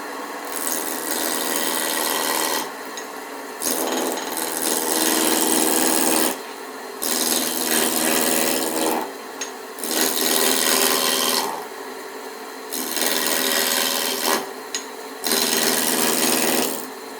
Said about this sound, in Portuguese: Vamos ligar o torno, ferramenta apoiada,